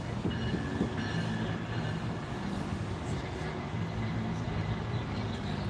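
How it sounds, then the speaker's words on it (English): A train pulls into a downtown station at night with a steady low rumble of rolling wheels and faint high squeals, heard at a moderate distance amid street ambience. "Train's coming in."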